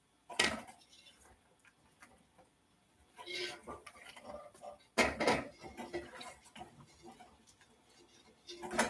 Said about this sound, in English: We'll stir it a little bit more here.